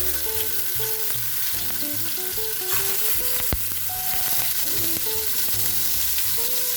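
Chicken pieces sear in hot oil for chicken in orange sauce, with a steady, close sizzle and crackle running throughout under faint kitchen background sounds, no voices.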